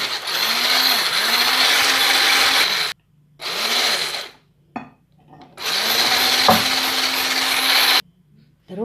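An electric mixer beats cupcake batter as oil is added little by little, running in three long whirring bursts with rising starts and pauses between, plus a brief clatter in one gap.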